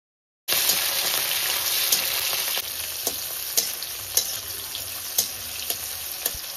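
Dried chilies, bay leaves, five-spice and tomato hit hot oil in a wok with a sudden loud, steady sizzle and crackle, broken by occasional spatula scrapes, close up and with no talk.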